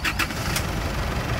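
An old 2.5 litre Isuzu D-Max diesel turns over on a jump starter, with a couple of quick cranking bursts and then a steady, close engine rumble.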